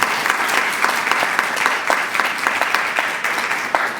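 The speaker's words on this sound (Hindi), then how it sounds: "मैं चाहूँगा आप मेरी तरफ से ज़ोरदार तालियां बजाएं इनके लिए" A church congregation at a Sunday service claps loudly for their pastor, a dense, even round of applause that fills the whole stretch with no talking.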